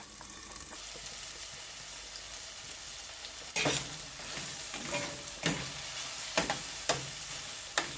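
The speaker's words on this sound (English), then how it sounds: "here is my food pot boiling up" Steady sizzling and bubbling from a soup pot of green banana, yam and dumplings on the stove, with a few sharp clinks of a utensil against the pot.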